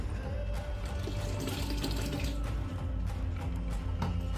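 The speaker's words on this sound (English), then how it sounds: "add a little bit of warm or hot water" Hot water runs steadily into gravy, a continuous pouring and splashing sound that stays even and fairly close throughout, with no voices.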